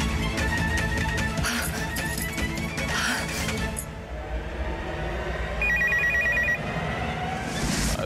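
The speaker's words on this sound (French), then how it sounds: "Ah oui, mon téléphone." A telephone ringing in a dubbed television drama scene, a repeating electronic ring tone over dense background music and noise, near and steady.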